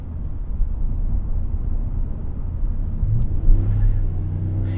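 A 2019 Ram 1500 Bighorn Sport pickup with a 5.7L HEMI V8 and 8-speed transmission accelerates up a freeway entrance ramp, its low engine rumble swelling steadily and heard close from inside the cab.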